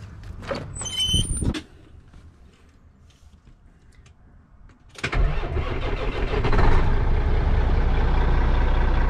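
A pre-emission diesel truck engine starts with a loud crank and catch, then settles into a steady, rough idle close by after some faint clatter and a quiet pause.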